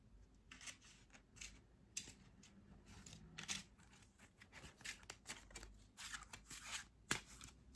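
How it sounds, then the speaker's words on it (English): Quiet, close riffling and flicking of playing cards being shuffled, in short bursts of crisp paper clicks. "I'm gonna shuffle again."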